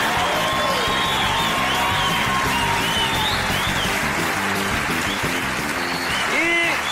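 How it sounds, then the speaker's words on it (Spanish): A studio audience at the Colombian TV show Sábados Felices claps and cheers loudly and continuously, with whoops and shouts over the clapping, while music with sustained tones plays in the room and voices call out near the end. "Un aplauso para Viviana Serna hoy."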